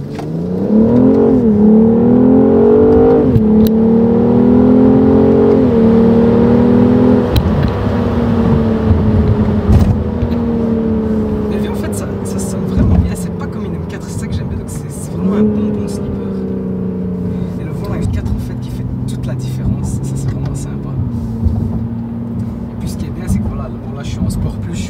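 A BMW M440i with a Maxton Design front lip on a test drive, its engine climbing loudly through rising revs with several distinct gear changes, then settling into a steadier cruising drone, heard from inside the car with someone talking over it.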